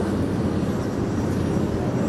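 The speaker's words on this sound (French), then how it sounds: "le DC3, le Nord Atlas, et je vous laisse enregistrer le son." Propeller engines of a Douglas DC-3/C-47B and a Nord Noratlas 2501 drone steadily and loudly at an airshow demonstration at Hyères naval air base, a dense continuous roar with no break.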